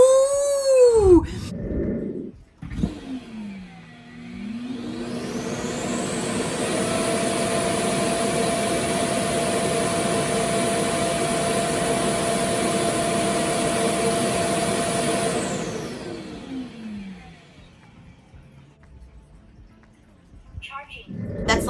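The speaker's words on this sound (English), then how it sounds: "That's the loudest thing that this actual device or machine does, is collect the dust." Self-emptying clean base of a Laresar L6 Pro robot vacuum with mop sucking collected dust out of the robot: a loud, steady jet-like whoosh rising up, holding for around ten seconds, then winding down, with electronic beeps before it and talk around it.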